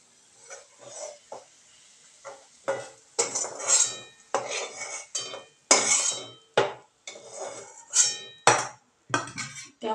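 Metal spoon scraping and clinking against a pan as fried, browned onion is scooped into a dish, a steady run of close, irregular clatters and scrapes with brief pauses between.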